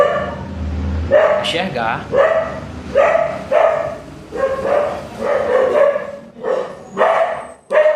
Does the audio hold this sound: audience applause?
no